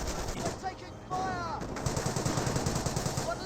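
Rapid bursts of rifle and machine-gun fire in the Company of Heroes 1 war strategy game, steady rattling shots at mid distance, with a faint voice talking underneath.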